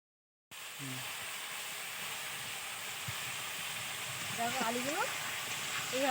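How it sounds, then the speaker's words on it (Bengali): Potato pieces sizzle steadily in hot oil in a pan as part of a fish curry, a constant close hiss that swells slightly toward the end while a voice talks over it. "দেখো এবারে আলুটা ভেজে নিচ্ছি"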